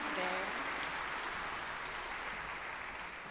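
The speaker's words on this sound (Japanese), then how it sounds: "改めて大きな拍手をお願いいたします。" A concert audience at a Korea–Japan friendship event applauds after a speech: a broad, even wash of many hands clapping, faint and distant, sustained throughout, with a brief trace of voice at the start.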